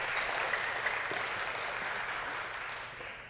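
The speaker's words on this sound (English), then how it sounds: "let's give a big round of applause to our group of representatives" At a board of education meeting, the audience gives student representatives a round of applause: a broad, even patter of many hands that gradually fades toward the end.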